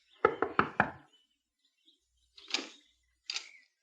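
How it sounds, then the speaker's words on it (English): Four quick, firm raps on the wooden door of a small shack at a village's edge, followed after a pause by two more isolated knocks, close and clear against near silence. "Within the hour, she was knocking at the door of a small shack on the outskirts of the village."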